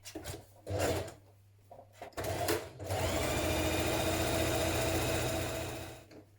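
A sewing machine stitches around the top of a hoodie pocket, with short bursts of needle whirring and then a long, steady run of fast, even stitching that slows and stops.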